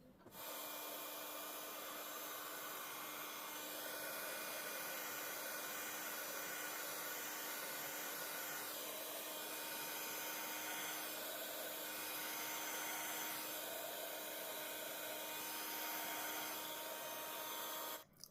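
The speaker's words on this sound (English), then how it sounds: "I made sure my heat gun was really hot and just kept bringing it over and back" A hot heat gun blowing over clear embossing powder on a card, a steady close-up whooshing fan roar with a constant whine, running continuously without pause.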